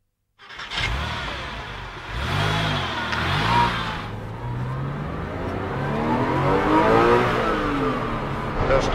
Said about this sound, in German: Der stärkste Motor in der 911 Modellpalette bindet sehr gut an.